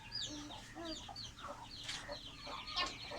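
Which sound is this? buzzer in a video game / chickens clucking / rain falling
chickens clucking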